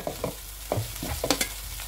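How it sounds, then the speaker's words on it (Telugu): Chopped tomatoes fry and soften in a pan for Hyderabadi dalcha, with a low steady sizzle broken by several scraping stirs of a spoon against the pan, close and moderately loud. "కొంచెం సేపు ఇట్లా ఫ్రై చేస్తే ఇది మెత్తగా"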